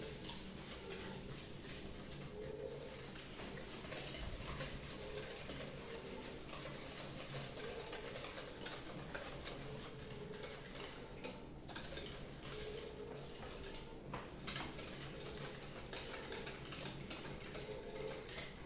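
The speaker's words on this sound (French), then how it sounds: "les jaunes d'œufs et la cassonade brune. Donc, la cassonade brune. Et c'est parti. Je mélange bien" Egg yolks being mixed with brown sugar for tiramisu, a utensil clinking and scraping against a bowl in quick irregular taps, fairly faint and close, with no talk over it.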